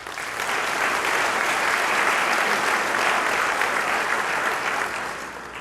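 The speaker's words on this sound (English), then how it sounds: "Please, a round of applause for Donna Murphy" Sustained applause from an audience at a hall of fame induction banquet, many hands clapping in a thick continuous roar that swells quickly, stays level, then tapers near the end.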